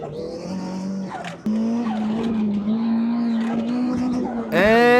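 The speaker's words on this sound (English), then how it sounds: "Slight locking up of the tires there." A race car without ABS, fitted with a swapped 1990s engine, briefly locks its tires, with a loud engine drone rising in pitch and a short squeal and skid, close and prominent, before the engine revs up sharply again.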